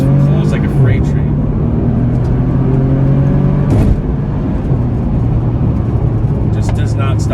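A Bentley Continental Supersports accelerates hard, its engine droning loud and steady with rising tones and a brief shift near the midpoint, while someone talks over it from inside the car.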